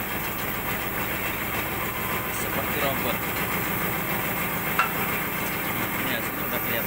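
Continuous mechanical hum and rattle of a Daito machine from Japan processing an H-beam, with repetitive clanking and a faint sharp knock near the end, under someone talking.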